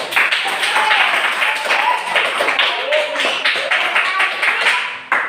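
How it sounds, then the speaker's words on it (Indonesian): Students in a classroom clap together in a quick, uneven patter of hand claps that runs steadily throughout, with voices mixed in among the claps. "Tepuk tangan untuk kalian."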